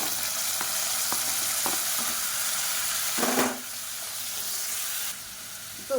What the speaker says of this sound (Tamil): இப்போ தக்காளி நல்லா வதங்கிருச்சு.